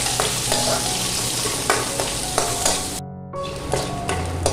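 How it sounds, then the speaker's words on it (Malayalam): Chopped shallots, slit green chilies and curry leaves sauté in hot oil, a steady close sizzle with repeated stirring scrapes and a brief dip partway through. "ഇത് നമുക്കിനി നന്നായിട്ടൊന്ന് വഴറ്റിയെടുക്കാം."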